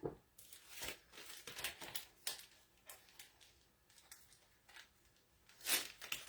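Scissors snip through Chalk Couture transfer sheets, giving faint, close crinkling cuts and paper rustles in an uneven rhythm with short pauses.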